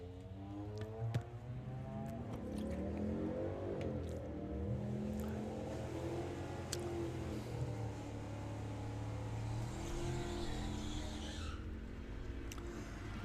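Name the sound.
Camaro drag racing run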